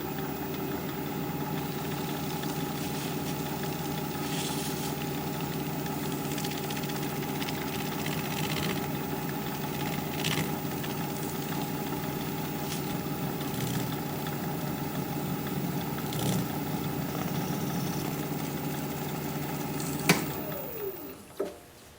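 Wood lathe spinning a spalted sycamore bowl at about 900 RPM during buffing, a steady close hum with a constant motor tone, ending with a couple of soft knocks as it winds down.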